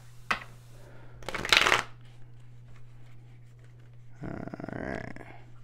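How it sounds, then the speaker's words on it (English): Tarot cards riffle in a short burst, then a longer shuffling rustle follows after a pause, close by over a low steady hum. "Let's get one more shuffle here, guys."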